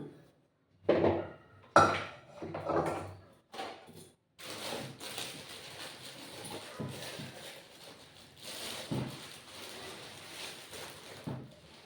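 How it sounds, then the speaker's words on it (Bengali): A metal kadai set down on a stove, giving a few close clanks and scrapes of cookware at the start, followed by softer rustling kitchen handling sounds. "প্রথমে আমি আগে কড়াইটা বসিয়ে দিলাম, কেমন।"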